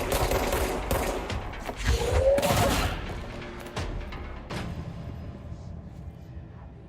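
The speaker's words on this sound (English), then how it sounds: "Stop firing rockets at me." Rockets fire in the video game Control. A close, heavy series of booming blasts and crackling impacts, loudest early and thinning into scattered sharp bangs toward the end, with no talking.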